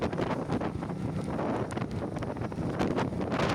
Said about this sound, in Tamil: இப்போ எப்படி காற்று வீசி கொண்டு இருக்குன்ட்டு